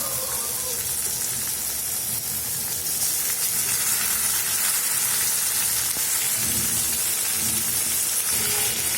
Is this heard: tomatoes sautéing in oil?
yes